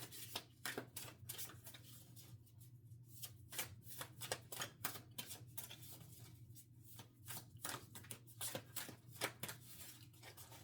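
A deck of cards is shuffled close up, crisp riffling bursts repeating steadily over a faint low hum, with no talking.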